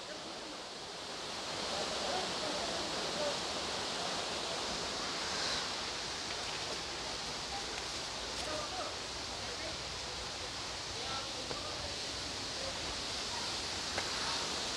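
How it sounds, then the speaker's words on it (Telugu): Jadiguda waterfall near Aradakota, Paderu, in Visakhapatnam, a steady broadband rush of falling water that holds constant and loud throughout, with no break or change in level. "ఆల్మోస్ట్ వాటర్ఫాల్ దగ్గరికి రీచ్ అయిపోతున్నాం ఫ్రెండ్స్"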